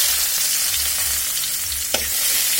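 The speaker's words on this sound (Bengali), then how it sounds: "আমি এখন পেঁয়াজ কুচি আর রসুন কুচিগুলো আগে দিয়ে দিব।" Chopped onion and garlic frying in hot oil for red amaranth greens, a dense, steady close sizzle with a brief clink near the end, no voices.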